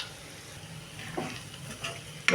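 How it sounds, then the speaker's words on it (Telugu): A spoon stirs chili powder through frying potato curry in a pan, soft scraping strokes over a low sizzle, with a sharper clink at the end and no talk. "మొత్తం ఒకసారి ఇట్లా కలిపి ఒక రెండు నిమిషాలు ఉంచుకుంటే కూర రెడీ అయిపోయినట్టే"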